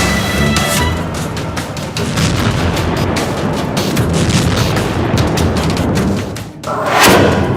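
Dense battlefield barrage during an artillery strike on a Ukrainian howitzer, loud continuous booms and crackling gunfire-like bursts, with a sharp blast surge near the end.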